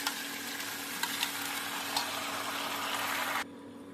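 Masala-coated cabbage drops into a hot black cumin tempering in oil, giving a loud, steady sizzle with a few faint clicks of stirring that cuts off abruptly near the end.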